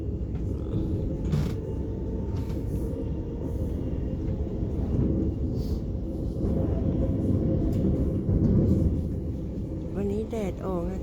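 Riding a passenger train in Sweden: a constant low rumble of the carriage with periodic creaks and clunks of the rail car, and a voice briefly heard near the end.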